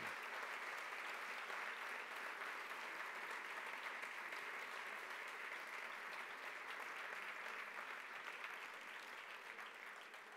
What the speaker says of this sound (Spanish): pues un aplauso por este ministro también